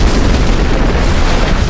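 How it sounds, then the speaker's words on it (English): On an offshore oil drilling platform, a massive explosion erupts as a loud, sustained deep boom and roaring blast that fills the moment without any voices. "It was at this point that the explosion occurred."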